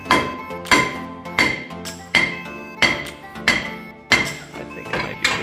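A brake rotor on a Chevy Equinox rear brake job is smacked to knock it loose: about ten sharp metallic hammer blows in a steady rhythm, close and loud, each with a short ringing decay.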